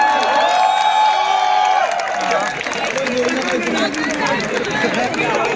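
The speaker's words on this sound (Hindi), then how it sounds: "round of applause करा, तालियां बजा रहे हैं" An audience at an IIT Delhi event cheers and whoops with scattered claps. Excited voices and loud calls fill the hall, and people talk through the crowd noise.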